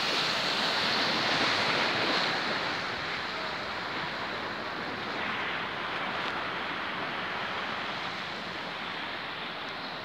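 Sea waves wash steadily onto the shore at Antignano, Livorno at sunset, a broad continuous surf roar with light wind noise, no voices.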